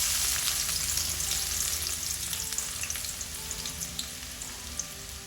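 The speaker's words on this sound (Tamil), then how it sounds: "எண்ணெய் காஞ்சதும் நம்ம கட் பண்ணி வச்சுருக்கிற வெங்காயத்தை சேர்த்துடலாம்." Chopped onions sizzle loudly in about four spoonfuls of hot oil in a pan for egg fried rice, a dense, even crackle that eases slightly over a few seconds with occasional stirring clicks.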